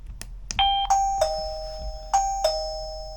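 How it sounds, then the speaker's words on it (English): An XTU J10 doorbell camera sounds its chime after the button is pressed: a clear electronic ding-dong rings close by, then repeats, with each pair of bright tones decaying over a quiet room. "Press the doorbell button,"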